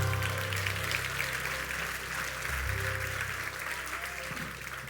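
Church congregation applauds during a Portuguese-language service, a dense, continuous wash of clapping that stays even and fairly loud, with low hum and faint tones beneath.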